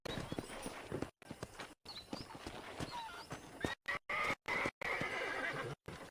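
Faint horse sounds from the video game Red Dead Redemption, with hooves clopping and a short whinny, broken up by brief silent gaps, amid quiet ambient noise.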